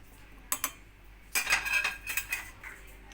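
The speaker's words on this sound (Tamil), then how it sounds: "இப்போ கேரட்டை மிக்ஸி ஜாரில் ஆட் பண்ணிக்கலாம்." Boiled carrot for carrot kheer is spooned into a mixer jar in a home kitchen, giving a few sharp metallic clinks followed by a cluster of clattering spoon-on-jar taps, close and fairly quiet.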